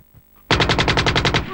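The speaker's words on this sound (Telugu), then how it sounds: "తుపాకీ తుపాకీ." A large gun fires one rapid burst of about a dozen closely spaced shots. The gunfire is loud and close, lasting roughly a second after a brief quiet start.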